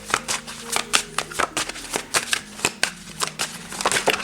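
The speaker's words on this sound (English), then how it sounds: "I'm gonna pull at least 4 or 5 cards," Tarot cards being handled and pulled from a deck: a steady series of crisp, close papery flicks and slaps in quick succession, with no talking.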